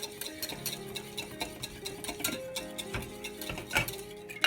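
Egg yolk and butter being whisked into hollandaise sauce, with quick rhythmic metal ticks and scrapes of a whisk against a bowl, steady and close, with no voices.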